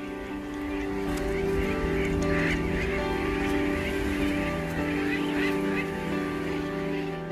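Seabirds calling in a colony on Ascension Island, a continuous dense chorus of overlapping honking and squawking cries, fairly loud and close, with no talk.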